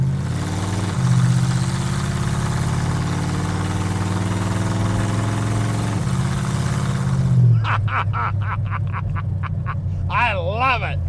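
A 1932 Ford street rod engine idles with a deep, loping rumble through open zoomie exhaust pipes, steady and close, with a few blips and burbles near the end.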